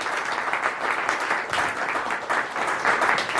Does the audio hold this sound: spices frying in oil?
no